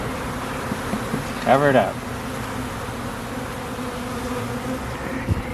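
Honey bees drone steadily during removal of a colony from a fallen tree, a dense close buzz throughout with a brief louder whine from a passing bee, while a person speaks briefly over it.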